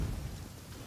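Thunder rumbling with rain in Genshin Impact, a low, faint, continuous roll under a steady hiss of rainfall, with no voices.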